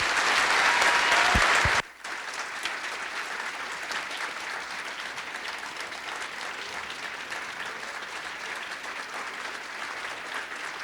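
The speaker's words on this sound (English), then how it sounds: "Can we please give him a round of applause?" Audience applause after a talk, a sustained, even wash of many hands clapping that carries on for over ten seconds, briefly dipping near the start and then continuing steadily at moderate loudness.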